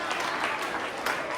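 Audience applause welcomes two singers onstage at a Republic Day program, a dense, continuous patter of clapping heard for a short stretch.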